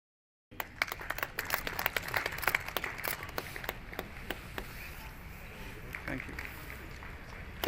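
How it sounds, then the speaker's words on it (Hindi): An audience at an SBI Mudra loan scheme event in Jammu starts clapping suddenly after a moment of silence. The applause then carries on steadily, dense and moderately close. "तालियां रुकनी नहीं चाहिए"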